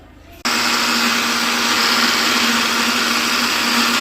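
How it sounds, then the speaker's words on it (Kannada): An electric mixer grinder grinds mehndi paste, starting abruptly and then whirring at a loud, steady high-pitched drone close by without interruption. "ಮತ್ತೆ ಮಿಕ್ಸಿ ಕ್ಯಾಪ್ ಮುಚ್ಚಿಬಿಟ್ಟು ಮತ್ತೆ ಆನ್ ಮಾಡ್ಕೊಳ್ಳಿ ಮಿಕ್ಸಿನ"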